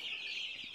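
Gamefowl chickens cluck softly in a brief burst, a faint fowl sound set against a steady high hiss.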